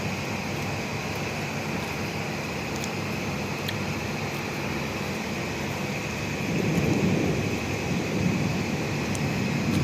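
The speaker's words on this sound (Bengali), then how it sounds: "কি যে শব্দ বৃষ্টির, দেখতেছেন, ঘরে থাকতে পারেন এরকম বিজলি চমকাচ্ছে চমকাচ্ছে" Heavy rain pours steadily through a night thunderstorm, a dense, constant wash of sound with a low rumble swelling louder near the end, no voices.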